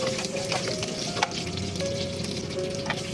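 Beef pares ingredients with cinnamon stick, black pepper and bay leaves sizzling steadily in a hot pan while a utensil stirs, scraping and clinking close up, with no talk.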